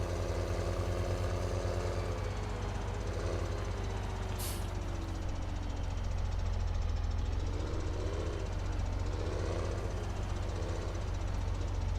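A small skid steer loader's engine runs steadily in Farming Simulator 17, a continuous low diesel drone with a faint rising and falling pitch as it moves, loud and unbroken throughout.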